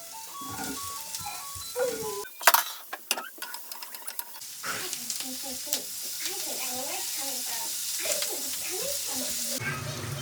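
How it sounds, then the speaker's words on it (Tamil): Chopped big onion and capsicum roasting on a tawa for kadai paneer, a steady sizzle with stirring clatters and scraping, with a person talking over much of it. "நம்ம வெட்டி வச்சுருக்கிற பல்லாரி வெங்காயமும் கொடமிளகாவையும் போட்டு ரோஸ்ட் பண்ணி எடுத்துக்கலாம்"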